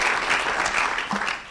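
A conference audience gives a brief burst of loud, dense applause for three panelists after a discussion session, the clapping steady before tapering off at the end.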